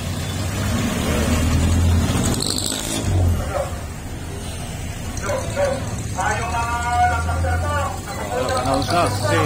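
A convoy of around thirty tricycles rumbles past during an election campaign in General Trias, Cavite, with steady engine drone and horn-like bursts, while people talk nearby and a dog barks.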